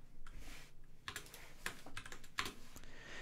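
Keys clatter on a computer keyboard during coding, in quick irregular bursts of clicks with short pauses, close and fairly quiet.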